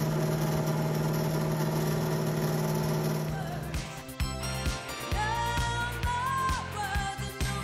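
Fuel pump on a Jackpine Savage snowmobile runs with a steady, near mechanical whir and hum, then the sound turns irregular, with clanks and shifting tones in its second half.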